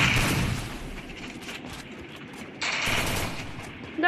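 Gunfire in a shooting video game room match: rapid, continuous bursts of automatic fire, loud and dense throughout, with a burst of heavier shots near the end.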